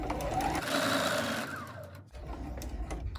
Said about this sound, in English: Back stitch a little.